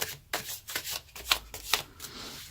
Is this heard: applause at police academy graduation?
no